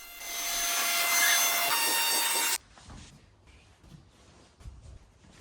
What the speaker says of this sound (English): Then he used the blower to get rid of all the dust